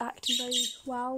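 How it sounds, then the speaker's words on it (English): Birds chirp in the background of an indoor room where someone talks, bright high calls rising faintly behind her steady voice across the short stretch. "I'm sorry about the birds."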